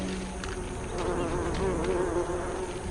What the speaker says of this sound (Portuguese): Diante do menor alarme, as formigas atacam as abelhas.